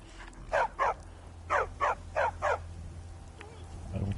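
A dog barks in the game Skyrim: six loud, evenly spaced barks in two groups, close by, over a low ambient hum, followed by quieter rustling.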